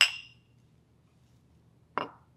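Glasses clink together in a toast, two bright separate rings with a quiet pause between them in a calm room.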